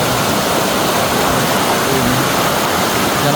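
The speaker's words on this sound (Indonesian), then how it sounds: "Nah, ini dari aliran sungai" River water rushes under a bridge near a Baduy village in Indonesia, a steady, loud broadband roar with no break and no voices.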